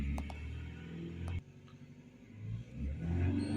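A car engine revs up during a diagnostic scan-tool check, a low rumbling growl that swells, drops briefly, then climbs again, heard close and fairly loud.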